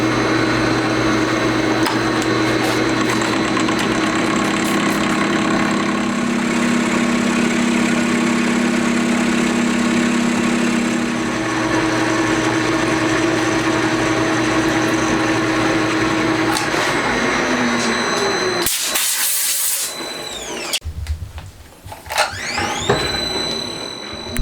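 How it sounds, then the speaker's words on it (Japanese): A lathe turns square stock round, the interrupted cut giving a loud steady machining drone with a faint chattering edge, then the spindle winds down and stops near the end, leaving clicks and quieter whirring. "四角いものを丸く削るので断続切削になってしまいます。"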